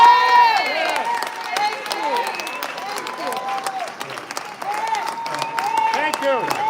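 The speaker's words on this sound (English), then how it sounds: "we want to ask everybody to give a round of applause to Mayor Lightfoot" Audience applause for Mayor Lightfoot, dense steady clapping from a crowd, with cheering and voices mixed in throughout.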